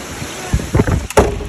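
Strong typhoon wind gusting during a whirlwind, with loud buffeting blasts and rumbling roars that rise and fall in uneven surges, close to the microphone.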